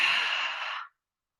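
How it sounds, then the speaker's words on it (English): One long, breathy exhale during a qigong breathing exercise, close and soft, lasting under a second before silence. "Breathe out."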